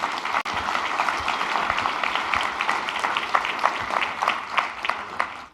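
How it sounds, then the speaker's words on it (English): Steady audience applause at a healthcare company's all-associate town hall, a dense wash of many hands clapping that holds evenly for several seconds with a few sharper claps near the end. "I think a round of applause is due here."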